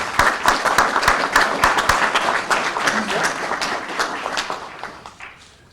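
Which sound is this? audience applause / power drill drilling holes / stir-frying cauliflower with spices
audience applause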